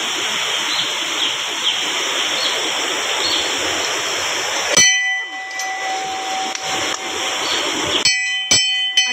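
Water rushing with force past the Swayambhu Lingeshwar temple in Konkan makes a loud, steady roar at first. It cuts off to leave ringing temple bells, which clang and ring out over the quieter water near the end.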